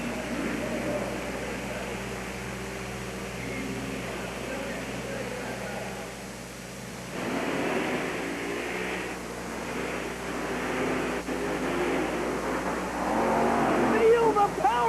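Monster trucks race at a 1990 USHRA event in Tampa, engines roaring steadily and surging louder toward the end, with a loud announcer talking over the continuous motor noise.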